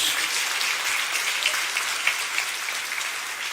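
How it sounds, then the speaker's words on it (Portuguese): A church congregation claps together in sustained, dense applause during a worship service, steady and fairly loud with no voices over it. "Dê uma salva de palmas, celebre a Jesus"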